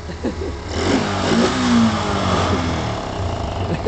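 A mini bike engine revs hard during a burnout, a loud, steady roar that swells midway and holds with rising pitch, close and alone without talk.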